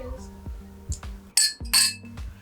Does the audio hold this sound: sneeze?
no